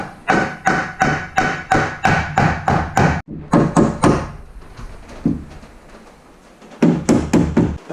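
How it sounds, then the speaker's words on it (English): A hammer strikes a wooden stud again and again while interior dividing walls are framed in a skoolie bus conversion. The blows are loud, close and steady, landing in quick runs with brief pauses between them. "I gotta hammer it this way."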